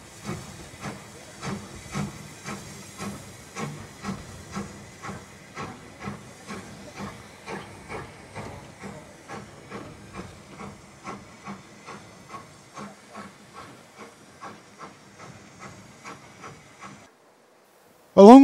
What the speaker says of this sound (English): A South African locomotive.